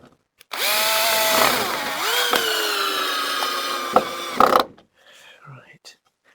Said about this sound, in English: These are all the screws I was using previously, taken out, so they're going in again.